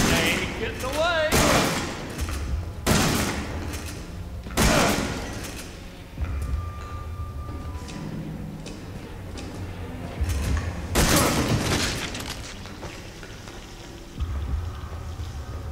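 Shotgun blasts in Resident Evil 7: Biohazard, several loud booming shots a few seconds apart with echoing decay between them, amid game ambience and a talking voice.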